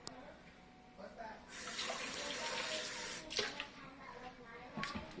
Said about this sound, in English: I'm going to add just a dash of water